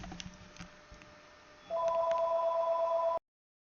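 A telephone rings with an incoming call: a steady electronic ring tone starts partway through over faint background noise, holds loud and close for over a second, then stops abruptly.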